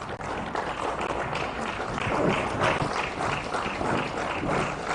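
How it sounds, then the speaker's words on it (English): Audience clapping to welcome a minister at the launch of an expo, a steady broad wash of applause from a seated crowd rising to its fullest in the middle and holding for several seconds. "Can we stand up to receive the minister with a hand clap"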